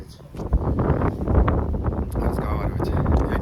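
Strong wind buffets the microphone outdoors near Yeysk, a loud, continuous roaring rumble with gusty surges throughout.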